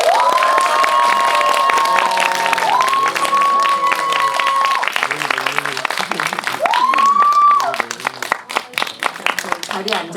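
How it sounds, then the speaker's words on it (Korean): A cinema audience at a film Q&A screening claps and cheers loudly in a dense, sustained burst, with high shouts and whoops rising over the applause before it thins out. "박수가 작아서 안 올라오시는 것 같아요."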